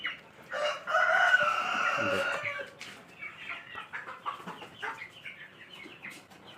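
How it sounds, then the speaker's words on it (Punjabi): Chickens cluck and a rooster crows loudly near the start, followed by a busy stretch of scattered clucking and squawks from several hens, roosters and large chicks close by. "ਵੱਡੇ ਚੂਚੇ ਤੇ ਮੁਰਗੇ ਮੁਰਗੀਆਂ ਵੱਡੀਆਂ"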